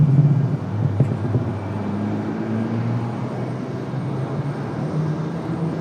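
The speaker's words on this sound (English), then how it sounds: "So again, American Airlines 3033 off to Phoenix Sky Harbor." American Airlines jet departing Raleigh-Durham International Airport for Phoenix, a steady low engine rumble and roar heard from a distance, constant throughout with no voices.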